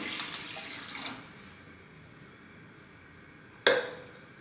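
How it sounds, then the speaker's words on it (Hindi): Water is poured into a cooking pan, splashing in bursts at the start, then tapering to a quiet trickle before a sharp final splash. "आप पानी ऐड करेंगे इसके अंदर, 4 कप पानी।"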